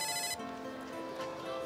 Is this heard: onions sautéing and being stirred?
no